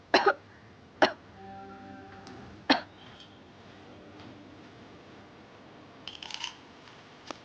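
A few sharp coughs ring out near the start, three distinct bursts about a second apart, followed by quieter shuffling and a brief clatter near the end, with no talking.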